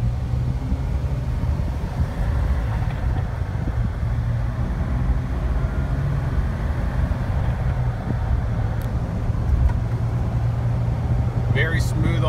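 A 2006 Jeep Wrangler TJ with a manual transmission and very low miles is driven, its engine and road noise a steady low rumble from inside the cabin, with a person talking over it.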